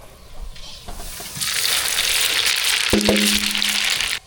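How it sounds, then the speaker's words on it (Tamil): Mustard seeds splutter and crackle in hot oil in a pan while tamarind rice is prepared, starting quiet, then bursting into a loud, steady sizzle, with a brief metallic clink partway through. "கடுகு நல்லா பறிஞ்சிச்சு கருவேப்பிலை சேர்த்துக்கலாம்"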